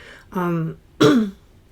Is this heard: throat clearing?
yes